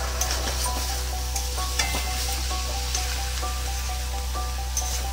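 Sattu posto, gram flour with poppy seeds, frying in a pan with a steady close sizzle, while a utensil stirs and scrapes with light ticks and clinks over a constant low hum.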